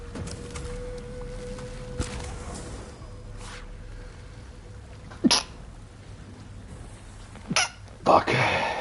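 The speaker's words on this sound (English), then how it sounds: "That's no need for sneezing." Several abrupt sneezes burst out in short, sharp spurts, clustered near the end amid faint background game sounds and a low steady hum.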